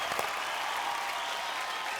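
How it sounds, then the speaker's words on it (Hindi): An audience at a televised poetry show claps steadily, a dense, even wash of applause from a crowd that continues without a break. "ताली बजाओ भाई घनघना के।"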